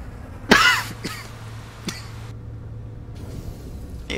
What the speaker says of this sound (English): Part of me thinks I coughed out my nicotine